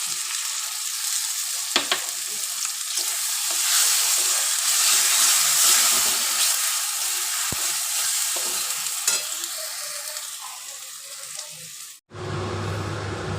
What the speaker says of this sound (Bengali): এবার এখানে টক দইটা দিয়ে দিচ্ছি আর ডিমটাও দিয়ে দিচ্ছি